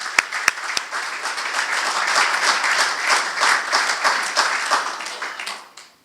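An audience at a men's health summit applauds an honoree, opening with a few sharp individual claps before swelling into sustained, fairly loud applause that fades out at the end.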